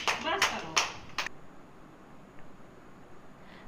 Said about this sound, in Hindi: जैसे 2 ताली, फिर 1 ताली, फिर 2 ताली, फिर 1 ताली